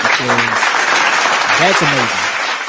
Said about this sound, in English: I want to hit the round of applause for that